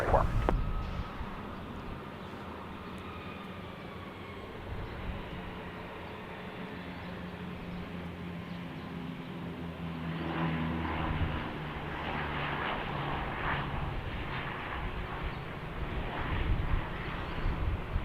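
An ATR turboprop airliner passes near a runway, a steady broad roar with a droning propeller hum that swells slightly as it goes by.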